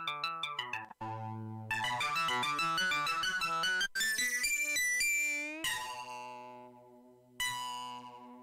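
Electronic music with distorted, ringing bell-like synth tones in shifting odd-meter patterns, bright harmonic stabs with abrupt cuts and restarts, loud and alone.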